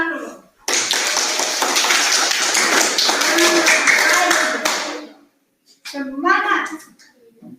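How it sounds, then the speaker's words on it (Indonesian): Schoolchildren in a classroom clap their hands in a rapid, sustained burst for about four seconds, then stop, followed by children's voices chanting. "Kamu harus tepuk tangan dulu."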